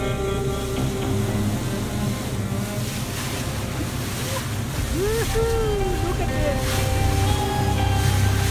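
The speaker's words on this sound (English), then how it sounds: "The Ocean Warrior is sailing out into the ocean." Ocean Warrior, a large ship, sailing out into the open ocean: steady wash of waves and wind buffeting the microphone, with faint tonal calls and a low mechanical hum underneath.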